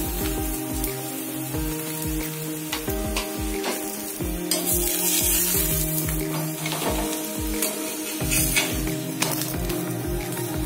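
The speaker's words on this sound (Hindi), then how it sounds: "अब हम इसको भी घी से सेक लेंगे।" A roti roasting with ghee on a hot pan sizzles and crackles steadily throughout, with small scraping and stirring noises layered over the continuous frying hiss.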